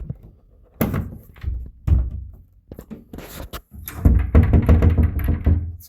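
Bedroom door being pushed shut and secured with a newly fitted security bolt lock, a series of close wooden knocks and thuds followed by sharper clacks of the bolt mechanism.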